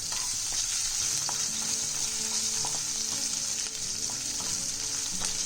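Asafoetida and crushed skin-on garlic sizzle in hot oil with a steady, loud, close hiss and crackle, with occasional faint stirring clicks and no voices.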